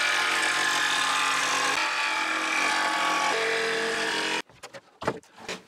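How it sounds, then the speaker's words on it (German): A jigsaw cutting through wood, a loud continuous buzzing rasp that shifts pitch partway through, then stops abruptly near the end, leaving brief clatters and handling knocks. "Dann drehe ich das Ganze rum und werde es wiederum mit der Stichsäge hier abschneiden."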